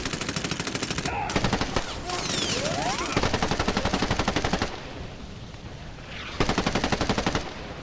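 Rapid automatic-weapon bursts from Medal of Honor Warfighter multiplayer rattle loudly in several separated volleys with brief pauses between them, no talk over them.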